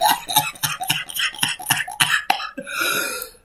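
A string of short, sharp coughs in quick succession, fairly close, followed by a breathy rasp as the fit trails off.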